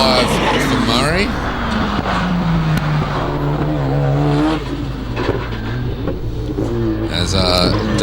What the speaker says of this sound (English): As Damien Malzani in the RX-7 makes his way out of the hairpin